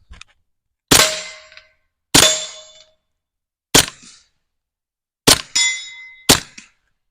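Five suppressed .22 subsonic gunshots from a Stribog TR22 fitted with a Rugged Mustang suppressor, each a sharp metallic clap with a short ringing tail, spaced irregularly a second or so apart, close and clean with no talk between.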